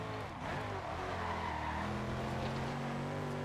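A Porsche Carrera GT in the Forza Horizon 2 racing game drives with a steady, loud engine drone whose tone climbs gradually, with a faint hint of tire noise and no talking.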